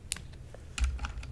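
Soft, sparse clicks of a computer keyboard, a few light keystrokes heard faintly and close in a quiet room.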